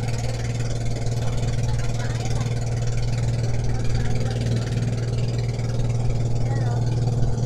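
A motorboat engine drones steadily throughout on the sea off the 100 Islands in Pangasinan, a constant mid-pitched hum with faint wind and indistinct voices under it.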